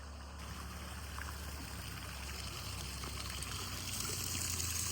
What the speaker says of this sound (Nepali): यसरी समर्सिबल पम्प लगाएर यसरी पानी फाल्न परिराखेको छ।